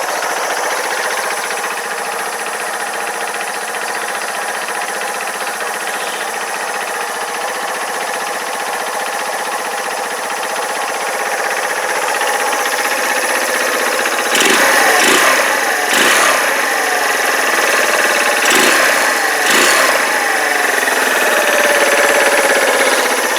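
Keeway RKV125 motorcycle's small engine running steadily, a constant high buzzing drone that grows slightly louder partway through, with a few rattling mechanical clicks later on.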